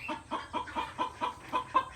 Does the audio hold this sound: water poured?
no